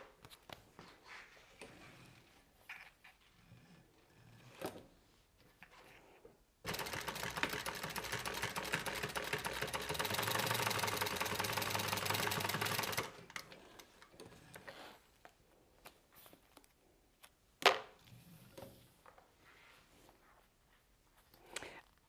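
A sewing machine runs a steady, continuous stitching line about 1/8 inch from the edge of stacked fabric pieces for a holiday stocking stuffer bag, loud and even for several seconds between quieter handling clicks and rustles.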